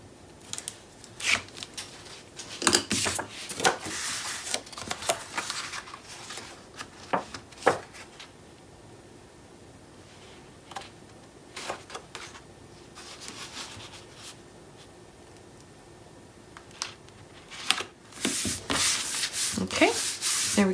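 Paper being scored for a mini album, a half-inch score along the 6.5-inch side: repeated dry scraping strokes and rustles, close and clustered in bursts with quieter gaps, ending in a longer run of rubbing.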